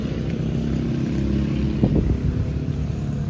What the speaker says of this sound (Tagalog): Mabibilis po yung mga motor dito.